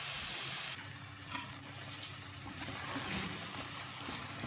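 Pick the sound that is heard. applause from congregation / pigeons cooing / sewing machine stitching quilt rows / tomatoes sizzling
tomatoes sizzling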